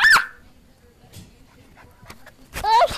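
A puppy gives short high whimpers and yips up close, with soft panting and shuffling between them and a person talking over the sounds.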